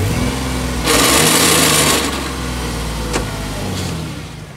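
1969 Jeep 4x4 engine revving briefly, a loud nearby rising roar that swells, holds for about a second and then settles back to a rough idle, with a light click partway through.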